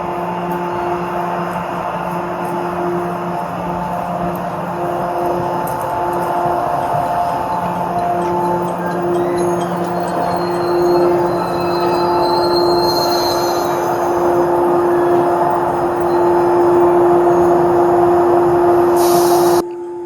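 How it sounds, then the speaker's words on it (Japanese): The Rokumon restaurant train of the Shinano Railway rolls into Karuizawa Station with a steady droning hum and faint squealing wheels, staying loud and close for about twenty seconds before stopping. "このね、電車が到着する瞬間が、まず、ウキウキってしますよね。"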